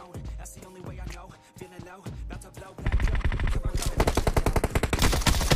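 Rapid automatic gunfire in the mobile shooter PUBG Mobile, starting with scattered single shots and building into dense, continuous bursts that grow louder toward the end, with no talk over it.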